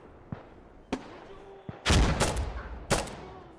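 Gunfire in the tactical shooter game Insurgency: Sandstorm: a few sharp single shots followed by two louder, booming bursts with brief echoing tails, close and prominent.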